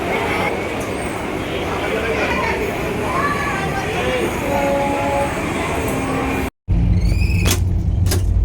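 A train at a railway station, heard as a broad rumble with murmuring voices, then, after a brief cut, a louder, closer rolling noise with sharp squeals.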